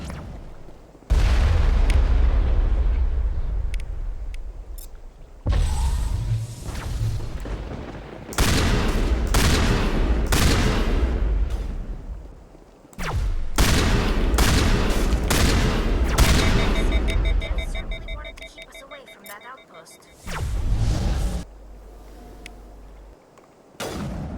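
Gunfire and explosions from a crossfire in the video game Mass Effect 1, with loud, sustained booms and rattling bursts in long blocks separated by brief quiet gaps, no talking.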